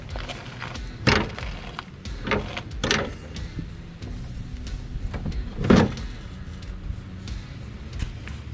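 The steering sector and pinion gear of a John Deere D Series riding mower are turned by hand, giving intermittent clunks, gear scrapes and thuds at irregular intervals, close by, over faint background noise.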